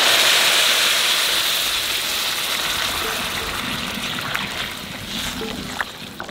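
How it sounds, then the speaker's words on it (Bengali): Hot water pours in a loud continuous gush into a pot of raw jackfruit and mutton keema, hissing and bubbling up close before gradually easing. "এখানে গরম জল দিয়ে দেবো।"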